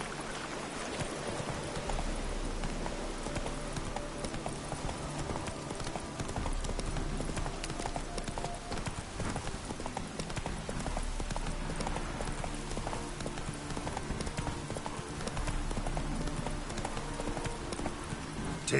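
A horse's hooves clip-clop steadily in the Witcher 3 video game, an even trotting rhythm over continuous ambient game sound, with no talk.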